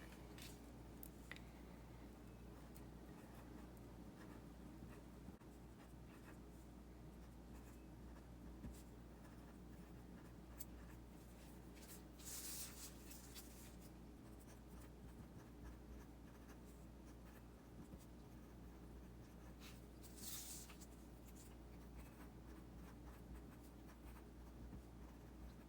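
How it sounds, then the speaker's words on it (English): Black marker writing labels on paper, a faint soft squeak and scratch of the felt tip in short strokes over a quiet room, with no talking. "I have a black marker and I'm just going to use that to label it."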